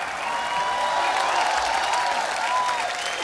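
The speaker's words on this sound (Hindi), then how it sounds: "जोरदार तालियां होनी चाहिए यार" A studio audience at a Hindi comedy show claps in dense, steady applause with a few cheers mixed in, without a break for the full length.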